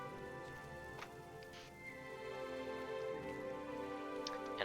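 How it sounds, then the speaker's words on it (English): Steady rain falls in the Oblivion video game, a soft continuous patter of drops on surfaces, quiet and unbroken, with no talking. "Hopefully this never-ending rain will stop."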